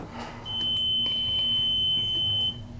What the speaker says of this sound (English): That's a really annoying beep